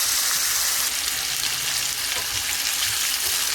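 A T-bone steak fries in a pan of butter and garlic sauce, giving a steady, close, continuous sizzle with soft crackling throughout and no one speaking.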